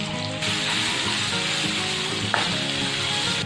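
Green chilies and ginger-garlic paste fry with onions in a pan for a fish masala, producing a loud, even sizzle with faint stirring and one short clink, and no speech.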